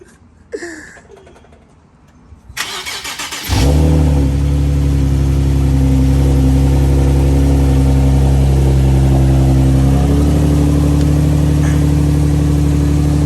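A few clanks, then a Nissan Z car engine with a newly installed oil cooler cranks and catches, settling into a loud, steady idle that runs on without a break.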